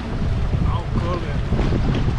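High wind blows across a Texas lake, a continuous loud roar of gusts and wind buffeting on the microphone with choppy water underneath, surging slightly toward the end.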